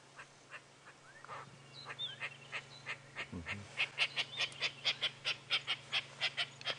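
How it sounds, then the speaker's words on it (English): A lilac-breasted roller calling loudly at sunrise on a safari drive, a long run of harsh, rhythmic squawks that grow louder and faster, over a steady low engine hum. "That is a lilac-breasted roller making all that noise."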